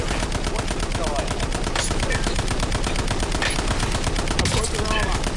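Rapid automatic gunfire from a Call of Duty Warzone match, a dense, continuous burst of shots that stays loud and close for the whole stretch, with faint game voice chatter mixed underneath.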